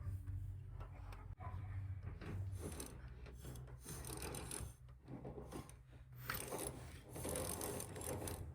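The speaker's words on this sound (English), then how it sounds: "now I've got each bolt backed out about 1/8 of an inch." Door hinge bolts are backed out on a C3 Corvette, a continuous close scraping and rasping of a ratchet wrench working with brief mechanical clicks and short gaps.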